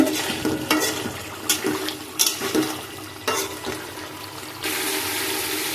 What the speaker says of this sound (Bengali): আমি মাছটা ভালো করে কষিয়ে নিচ্ছি।